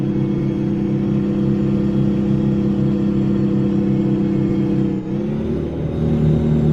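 Big rig truck engine in American Truck Simulator, a loud steady droning rumble with a brief dip and gear shift near the end before the drone resumes.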